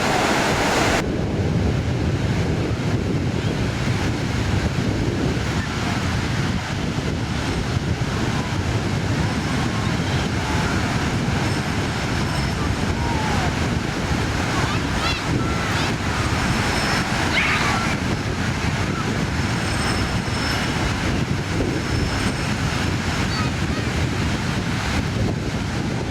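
Sea waves wash continuously onto a sandy Venice Beach shore on a cloudy, cold day, a steady broadband surf roar mixed with wind buffeting the microphone, with no voices.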